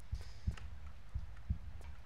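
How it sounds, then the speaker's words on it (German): Heartbeat effect from the video game Tomb Raider 3, a soft low double thump repeating twice in a slow steady rhythm, fairly quiet and heard alone. "Ach, dieses Herzklopfen."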